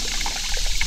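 Water of Max Creek in Shawnee National Forest, Southern Illinois, flows and trickles over its bed, a close, continuous babbling gurgle with no talking.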